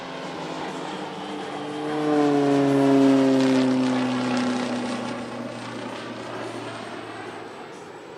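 A display aircraft at the Leszno airshow roars past, its engine drone swelling to a peak and then fading with a falling pitch as it moves away, loud and continuous over the crowd.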